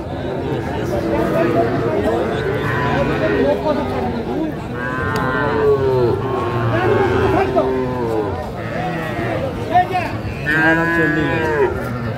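Sahiwal bull calves at a cattle market in Naogaon give several drawn-out moos, one after another. Crowd chatter and people talking run underneath throughout.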